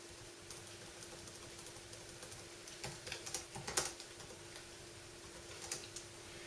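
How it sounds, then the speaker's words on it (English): Someone types a phrase on the keyboard of an Asus N53SN laptop, making soft, quick, irregular key clicks with a few louder taps, recorded close over a faint steady hum. "I'll give you a quick demonstration of just typing on this."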